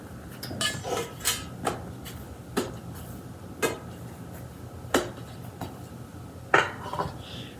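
Light metallic clatters and clinks of small deep-dish pizza pans being handled, scattered irregular knocks close by, no talking.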